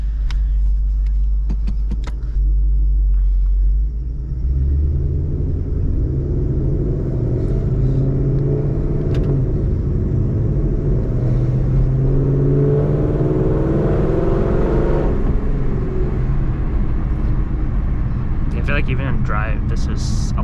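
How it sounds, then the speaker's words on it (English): A 2016 Mustang GT running an E85 tune and power mod drives along, its engine a steady low rumble with a swelling rev around the middle, heard from inside the car as people talk over it. "we're going to be driving the 2016 Mustang right now"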